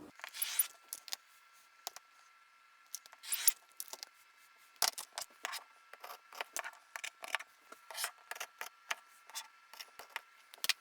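Scissors snip through handbag fabric in a run of short, crisp cuts, steady and irregular with small pauses, close by and fairly quiet, with no talking.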